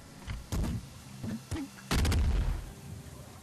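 A cluster launcher fired in the video game Nuclear Throne: a few sharp, punchy blasts spaced irregularly, ending in a heavier booming burst that rumbles and fades.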